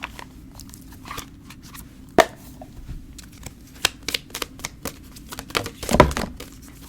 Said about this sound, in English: So I'm going to pull a few more cards here.